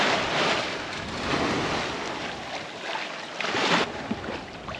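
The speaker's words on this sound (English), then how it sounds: "probably feels like 9 to 12 knots of wind" Force 4 wind at sea, around 9 to 12 knots, rushes over a 30ft sailboat sailing solo from Hawaii toward French Polynesia, a steady loud roar mixed with water wash and gusting surges, with no talking.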